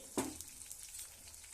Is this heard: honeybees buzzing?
no